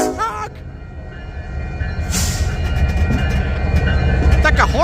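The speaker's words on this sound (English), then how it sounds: "Union Pacific is the leading locomotive" A Union Pacific freight train rolls past with its locomotives leading, a loud continuous rumble and rattle of wagons with squealing wheel tones and brief horn-like bursts near the start and end, while a person talks briefly.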